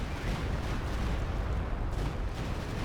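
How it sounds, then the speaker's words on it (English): A Stuka dive bomber attack in the World War II strategy game Company of Heroes 2 produces a continuous dense roar of explosions and rumbling battle noise, steady and loud throughout with no voices. "So Stuka coming in most likely going to cause a lot of damage over here"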